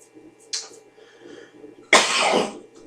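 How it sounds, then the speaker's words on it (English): A man coughs twice: first a short, sharp cough, then a louder, longer, harsher one, both close against a quiet room. "that's when I start getting ready to have my cough fits"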